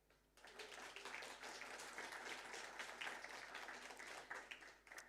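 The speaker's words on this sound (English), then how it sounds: "let me do a tiny ceremony, asking you all to give us a round of applause" A round of applause from the audience at a Norwegian-Lithuanian business forum, steady and full-bodied clapping rising quickly and holding for several seconds before thinning at the end.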